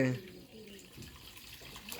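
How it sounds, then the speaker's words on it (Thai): Water is poured into a mortar while preparing snakehead fish laab, giving a soft, steady splashing trickle, close but faint, with voices murmuring alongside. "เทน้ำลงพุ่นเลย"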